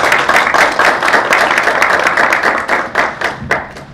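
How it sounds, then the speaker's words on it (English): Loud, dense audience applause at a holistic wellness event, many hands clapping steadily and close for the full stretch before tapering slightly near the end. "Can we have a big round of applause for them?"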